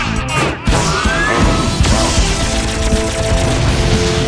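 Cartoon storm gun firing in an animated car battle, a burst of rapid crashing shots and smashing impacts with a rising whine, loud and dense throughout.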